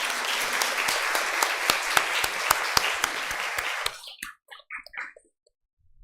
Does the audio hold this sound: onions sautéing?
no